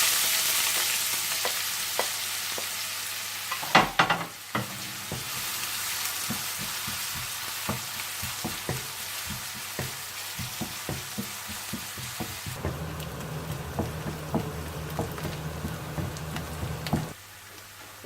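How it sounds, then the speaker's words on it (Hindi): Chopped onion and cumin seeds fry in hot oil, a busy close sizzle with stirring clatter and a few sharp scrapes, quieter after the middle and then rising again. "सबसे पहले आप तेल गर्म कर लीजिए और इसमें आप डाल दें जीरा और कटी हुई प्याज और इसे थोड़ा सा भून लें।"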